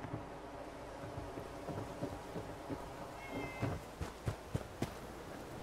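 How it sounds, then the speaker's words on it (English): A cat in Fallout 4 meows over a backdrop of steady rain and low rumbling, its short calls coming faintly at first and then growing louder and more insistent toward the end. "Shut up, cat."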